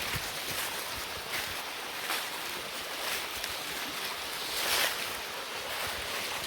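A waterfall on the Cumberland Trail State Park rushes in a steady, dense roar of falling water, continuous and fairly even, with no voices over it.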